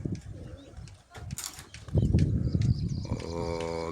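At a rural pigeon-flying contest where around 250 pigeons take to the air, wings flutter and flap in bursts, mixed with cooing and a rising tonal noise in the busy outdoor scene.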